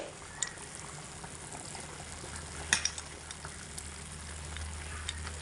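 Khichuri simmering in a pot while it is lightly stirred, giving a steady bubbling, sizzling hiss with a few soft scrapes and clinks from the spoon.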